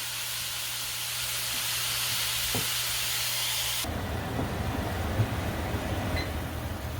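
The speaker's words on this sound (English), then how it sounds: "Let that meat start to cook. Let it sear a little bit." Ground beef for chili con carne sears in a pan with a steady, close sizzling hiss that shifts in texture partway through, alone with no talking.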